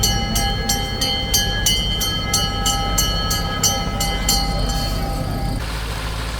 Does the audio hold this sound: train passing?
yes